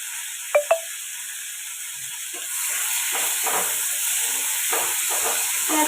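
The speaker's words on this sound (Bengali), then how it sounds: "এবার আমি তেলের মধ্যে পেঁয়াজটা একটু দিয়ে দিলাম" Onion hits hot oil, bursting into a continuous hiss and sizzle with crackling pops, preceded by two sharp clinks in a quieter stretch at the start.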